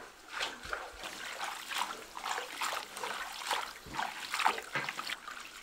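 Water trickles and sloshes in repeated bursts as pig skin is rinsed by hand in a bowl, close and fairly soft, with an uneven rhythm of pours and splashes.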